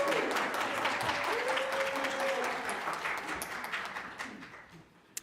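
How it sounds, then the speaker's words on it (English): A congregation at a Sunday service celebrating Earth Day applauds, the dense clapping gradually thinning and fading toward quiet by the end. "please stand up and give them a huge round of applause"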